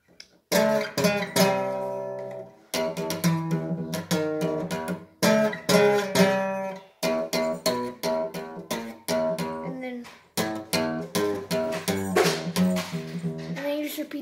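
Guitar playing a part from a song, loud and close, with rhythmic chugging notes and chords in repeated phrases separated by brief gaps, alone without talk.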